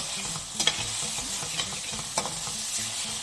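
Chilies are stirred into hot oil in a pan for palak paneer, with steady loud sizzling and frying hiss throughout and a few sharp spoon clinks against the pan.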